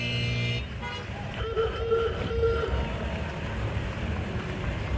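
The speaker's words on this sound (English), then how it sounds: "When you hear the horn, ease up." A car horn sounds at the Great Race ceremonial start in Owensboro, Kentucky, a few short toots over low traffic and engine noise, with voices faintly in the background.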